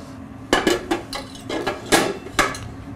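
A metal whisk attachment of a kitchen mixer is handled, giving several sharp metallic clinks and knocks spaced irregularly over a few seconds, close and fairly loud.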